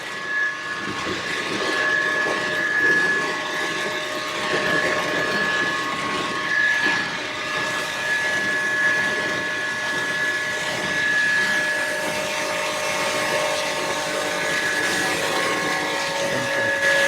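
A combined rice mill and flour mill grinding grain at high speed, a steady loud mechanical roar with a persistent high whine riding on top, unbroken and without talk throughout.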